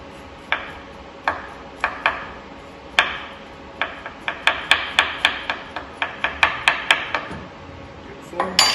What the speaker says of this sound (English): Just going to use a spoon just to scrape off and peel off a little bit of the skin.